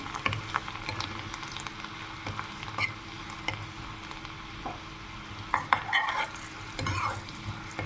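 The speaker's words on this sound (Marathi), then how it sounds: "लसूण चांगला फ्राय झालेला आहे" Garlic frying in a pan while dal makhani is cooked at home, giving a steady soft sizzle with occasional stirring scrapes and clinks, fairly quiet and close, with no talking.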